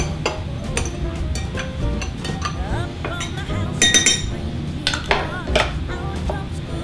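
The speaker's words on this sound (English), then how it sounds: "Give it a stir." A spoon clinks against glass while stirring a white rum cocktail, bright close tinkling taps in scattered bursts over a steady low background, with someone speaking faintly alongside.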